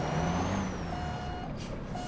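A Freightliner truck in Euro Truck Simulator gives steady reversing beeps over a constant engine drone, clear and continuous with no talking.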